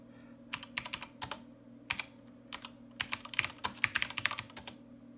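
Keys clatter on the keyboard of a SWTPC 6800 computer in quick, uneven bursts of typing, with sharp individual clicks over a low steady electrical hum and no talking.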